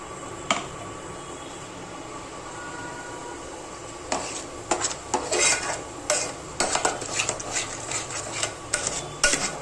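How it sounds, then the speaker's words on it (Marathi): A paste of onion, garlic and coconut frying in oil in a pan for chicken curry, a soft steady sizzle first, then loud scraping and metal clinks of a spoon stirring against the pan, close and with no talking. "ह्या कांदा लसूण खोबरं आहे ना ह्याचं वाटण आहे ना ह्या तेलामध्ये आहे ना फ्राय करून घ्यायचं"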